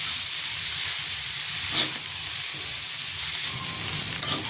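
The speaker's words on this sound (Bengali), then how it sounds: "পটলগুলো আট দশ মিনিট ভালো করে ভেজে নিচ্ছি" Pointed gourd pieces fry with turmeric in a pan, a continuous close hiss and sizzle with a few faint crackles and scrapes.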